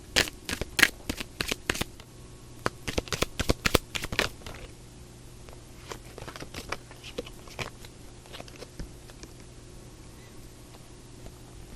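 Tarot cards being shuffled in a reading, with a quick burst of crisp riffling flutters over the first four seconds, then sparser soft card slaps and flicks, close and fairly quiet, with no voices.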